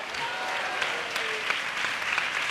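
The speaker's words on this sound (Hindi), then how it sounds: "ताली बजा के बोले।" An Easter Sunday church congregation claps together in a dense, continuous burst of applause, close and fairly loud, with scattered sharper claps standing out.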